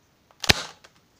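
A single sharp toy gun shot cracks out close by, with a brief trailing rattle and a couple of faint clicks afterward.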